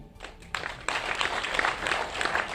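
Applause from a live audience at a Haryanvi comedy show, building from sparse claps into a steady, fairly close wash of clapping.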